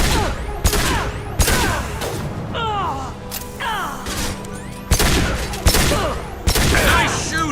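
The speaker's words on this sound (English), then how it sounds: "Nice shooting!" Rapid video game gunfire rattles in repeated loud bursts with sharp impacts, mixed with game voices and sound effects throughout.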